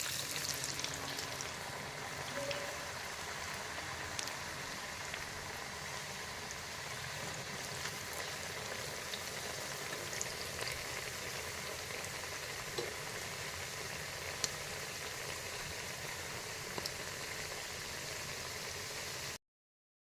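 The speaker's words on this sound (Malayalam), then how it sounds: "നമ്മൾ എണ്ണ ചൂടായിട്ടുണ്ടാകുമ്പോൾ നമ്മൾ ഉരുളക്കിഴങ്ങ് ഇടാണ്." Potato pieces fry in hot oil with a steady, even sizzle and crackle that runs on alone without talk, close and moderately quiet.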